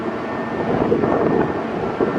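Strong, cold wind buffets the microphone in a constant loud rumble outdoors on a sunny day, with no voices, only the roar of gusts against the mic.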